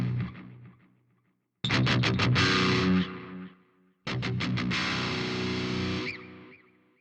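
High-gain electric guitar through a BOSS GX-100 with space echo delay and a small reverb: two loud distorted passages, each opening with a quick run of picked stabs, then sustaining and trailing off into echoes, with a near-silent gap between.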